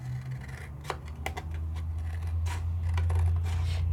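Scissors snip and trim through paper during card-making with dies, a few sharp cuts over a steady low hum.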